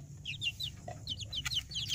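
A 7-week-old joper chicken, unvaccinated, clucks in quick soft bursts, several short calls repeating over a steady low hum, fairly faint.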